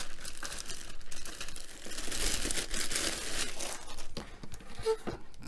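Plastic wrapping crinkles and rustles close up as an Eyesen Super 8 and 8mm film scanner unit is pulled out and unwrapped, irregular crackling bursts continuing throughout.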